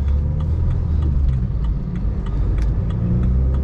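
A car's engine runs close by with a steady, dense low rumble and light mechanical ticking throughout, no speech over it.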